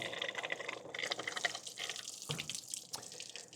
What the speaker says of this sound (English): Now I'm going to go fill these empty jugs up with water